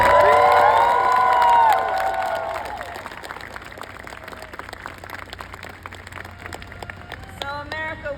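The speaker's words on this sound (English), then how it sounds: "Can we all applaud our first-time voters?" A political rally crowd cheers and applauds, loud shouts and whistles at first, then a thinning spread of claps and scattered voices that fades to lighter cheering near the end.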